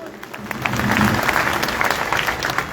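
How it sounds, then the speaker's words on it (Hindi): Audience applause at a Tipu Sultan Jayanti gathering in Latur: a dense, steady crowd of clapping hands swells and holds for about three seconds, loud and close, with a few voices mixed in. "तालियां नहीं बजाओगे"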